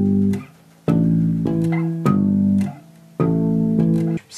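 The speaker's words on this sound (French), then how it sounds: "tu peux aller sur la corde du dessous pour jouer les harmoniques en dessous pour changer" Bass guitar harmonics chimed on a lower string, several ringing bell-like notes plucked in a loose rhythm, each sustaining and decaying before the next, close and clear with no voices.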